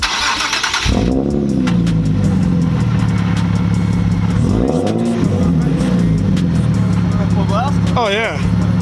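A Nissan 370Z with a VQ engine and its muffler deleted starts up with a loud bark and settles into a harsh, close idle. It then gives a couple of sharp revs that rise and fall. People talk and cheer over it.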